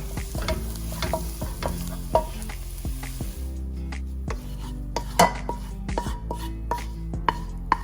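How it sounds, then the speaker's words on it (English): Eggs frying in hot oil while being mixed for shrimp fried rice, a continuous sizzle punctuated by sharp, repeated spatula clacks against the pan, close and busy, with no talking. "Fry the eggs."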